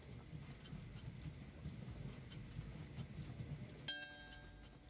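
A passenger train running in the railway-building video game Train Valley 2, a faint continuous low rumble with soft wheel clatter, followed near the end by a brief bright tonal chime.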